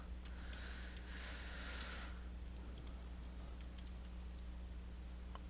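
Sample text being typed on a computer keyboard, faint scattered key clicks in a light irregular patter over a low steady electrical hum, with no speech.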